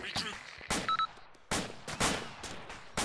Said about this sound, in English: Shit, they got a MG on us so.